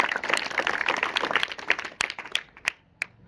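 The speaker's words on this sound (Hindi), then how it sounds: "एक बार जोरदार ताली बजाइए।" Audience clapping at a talk on knowledge, science and the constitution, a burst of loud applause that thins out into a few scattered claps and fades near the end.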